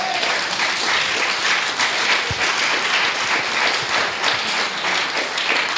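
A church congregation bursts into sustained applause, a dense wash of many hands clapping together for several seconds, loud and filling the room.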